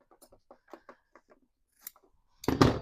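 Scissors snip through fabric binding for a patchwork placemat: a run of small, quick close clicks, then one louder, longer crunching cut at the end, with no voices.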